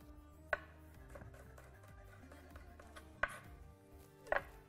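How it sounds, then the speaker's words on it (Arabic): A knife mincing garlic cloves on a cutting board gives three sharp, close knocks spaced a few seconds apart, with quiet background hum between them. "بنفقش حبة الثوم وبنرجع بنفرمها بالسكين"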